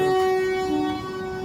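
A passenger train runs with a loud, steady rumble and a sustained tonal drone, sounding from close by as if from inside the coach, with no speech.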